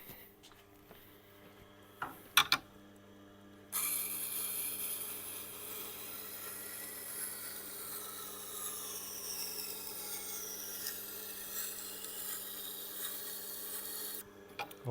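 A single-bevel Japanese knife grinds against the stone of a Tormek T8 with a steady, even rasp that is close and moderate in level, running continuously after a few short scrapes at the start.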